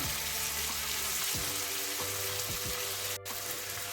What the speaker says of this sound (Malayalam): അതും കൂടി ഇട്ടൊന്ന് വഴറ്റിയെടുക്കാം